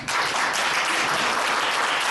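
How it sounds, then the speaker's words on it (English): An audience applauds after a speech at a public event on a crime prevention and rehabilitation act, a brief, dense, even burst of clapping heard close and on its own. "Let's put a round of applause for Senator Dr. McDowell."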